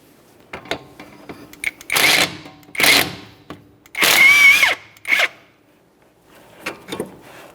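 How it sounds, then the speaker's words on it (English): Ratcheting of a 17mm wrench removing a sway bar link mounting nut on a 2011-2020 Toyota Sienna front suspension, heard as several loud bursts of clicking separated by quiet gaps. "Use a 17mm to remove that mounting nut."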